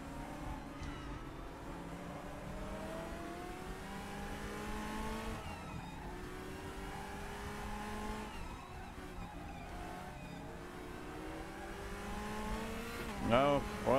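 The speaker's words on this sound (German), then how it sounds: "da drückt sich schon ein BMW vorbei" A BMW DTM race car in the RaceRoom racing game roars past, its engine pitch sweeping up through gears with tire squeal near the end, over a continuous engine drone.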